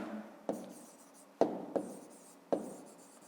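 Pen or pencil writing out a fifth-grade math problem solution on paper, with four sharp scratchy strokes and taps spaced through a quiet room, close and fairly soft.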